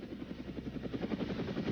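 Steady rhythmic chopping of helicopter rotor blades, fairly close and continuous, with no speech over it.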